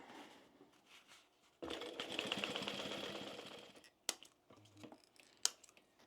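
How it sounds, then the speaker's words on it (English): A sewing machine runs steadily for about two and a half seconds while backstitching the pocket on a fabric tote bag, followed by short clicks and handling noises. "when sewing on a pocket, make sure you always backstitch really well at the beginning and end"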